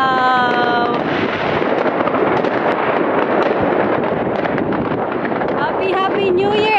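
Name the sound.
New Year fireworks exploding outdoors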